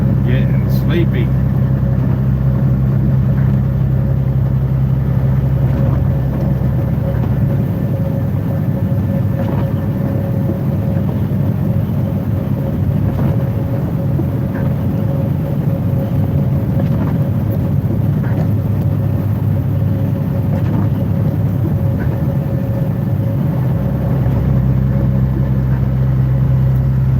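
A car engine drones steadily through a night drive, a constant low hum and road rumble filling the cabin with no pauses.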